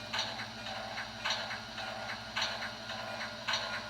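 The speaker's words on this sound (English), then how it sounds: "And a Reading bell as well." A Reading locomotive bell from the sound card of a model Buffalo Creek & Gauley 2-8-0 #13 rings in evenly spaced bright strikes, about one per second, quiet over a low hum.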